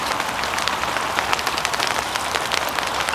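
Hailstones falling beside a lake during a carp fishing session make a dense, continuous patter of tiny impacts, steady and fairly loud throughout.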